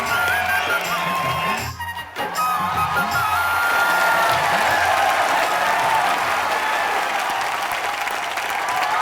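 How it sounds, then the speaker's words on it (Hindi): A studio audience at a Hindi TV comedy show applauds steadily, a dense wash of clapping that briefly dips near the start and then swells again, with some cheering mixed in. "अरे क्या ताली बजा रहे हो?"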